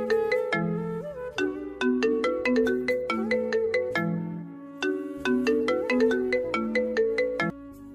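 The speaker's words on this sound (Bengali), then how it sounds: "এমন সময় মিম ফোন দিল।" A melodic phone ringtone plays loud and alone for the whole stretch, a bright repeating tune of chimed notes in two matching phrases with a brief break near the middle.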